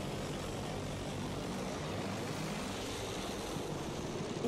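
A fighter plane engine in Battlefield 1, a steady broadband propeller drone and rushing airflow that holds constant throughout, with a faint pitch shift midway and no voices.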